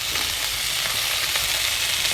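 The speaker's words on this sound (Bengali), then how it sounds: "আমার এক পিঠ মাছ ভাজা হয়ে গেছে, আমি উল্টিয়ে নিয়েছি।" Poa fish sizzling as it fries in oil in a pan, a steady, dense crackle and hiss, close and continuous with no talking.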